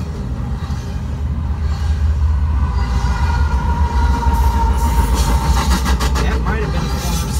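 Norfolk Southern freight train NS 275 with an AC44 locomotive rolls past heading south at Ranson, a loud continuous rumble and wheel clatter with rising squeal and rattling toward the end.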